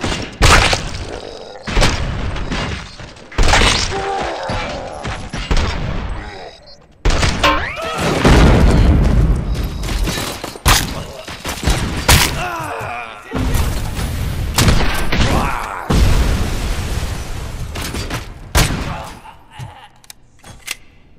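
A chaotic gunfight erupts with heavy, loud booms and bursts of rapid gunfire, overlapping in a near-continuous barrage that drops out briefly before more blasts follow.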